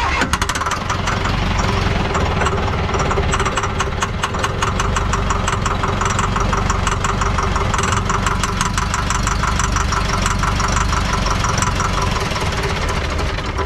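Old diesel Lull, left sitting about twenty years, cranking continuously with a rapid rhythmic chugging knock, loud and close, turning over steadily without catching.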